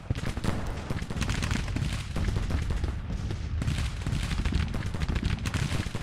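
Artillery guns fire in the Civil War strategy game Grand Tactician, a dense continuous barrage of overlapping booms and gunfire crackle that rolls on steadily at moderate loudness.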